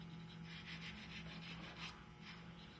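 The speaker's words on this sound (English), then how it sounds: "use the flannel cloth to buff it up and make it look a bit better" Flannel cloth buffing wood furniture after a repair, a steady close rubbing with soft repeated strokes and a faint low hum underneath, no talk.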